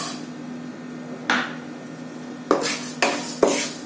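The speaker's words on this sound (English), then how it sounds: "In a pan, I am going to add the ulad dal." Dry ulad dal goes into a pan for roasting, heard as a few sharp metallic clinks and clatters of a utensil against the pan over a quiet steady hum.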